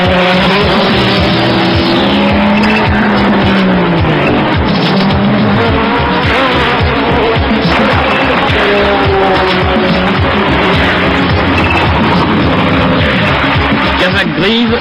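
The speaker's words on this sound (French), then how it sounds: "accélérateur plus frein à main, victoire en tête à queue" A Renault 21 Turbo touring car in 1988 Superproduction racing revs hard and spins under throttle and handbrake, its engine roaring loudly and continuously with tyre noise as a commentator talks over it.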